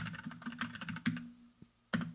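Rapid clicking of computer keyboard keys while assignments are typed in a game-jam tutorial, a steady patter of close keystrokes with a brief pause and a final sharp key press.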